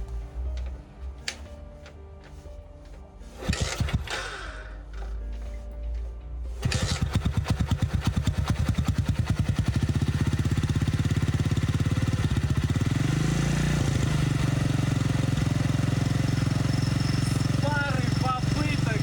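An old childhood motorcycle engine is cranked with a few sputters, then catches and runs with a rapid, loud, ticking idle that rises and settles close by, with someone speaking early on.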